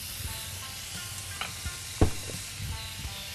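Ginger and garlic fry in a pan, giving a soft, steady sizzle with a few quiet clinks and one sharper knock of a utensil near the middle.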